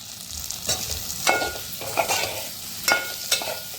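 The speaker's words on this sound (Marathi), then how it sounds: "त्याच्यामध्ये बटाटे टाकून घेऊया" Potatoes being added and stirred in a hot pan for a dried Bombay duck curry, with a steady sizzle and several scraping stirs.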